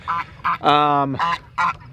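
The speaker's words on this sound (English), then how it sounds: "we've also got the ducks in here" Farmyard ducks kept on a homestead alongside hens, giving several loud, close quacking and honking calls in short bursts, one drawn-out honk in the middle.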